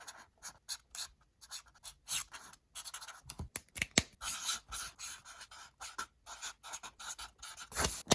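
An Artistro dual tip alcohol marker scribbling across a post-it note, a continuous close scratchy rubbing of felt on paper in quick back-and-forth strokes with short pauses between, faint and alone without talk.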